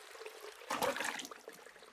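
Water poured from a watering can onto seeds in a garden puzzle video game, a brief splashing trickle that swells suddenly and then trails off into a softer dribble.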